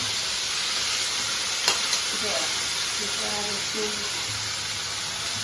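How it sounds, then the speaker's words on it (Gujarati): Chopped onion goes into hot oil with asafoetida, garlic and tomato, giving a steady bright sizzle broken by a few utensil clinks and light scraping stirs, with faint talk in the background. "હવે નાખી દઈશું ડુંગળી બધી"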